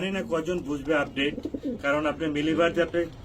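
A pair of Damascene pigeons coos in repeated rolling, throaty bursts up close, mixed with people talking nearby.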